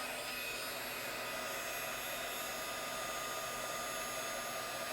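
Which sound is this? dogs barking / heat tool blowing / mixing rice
heat tool blowing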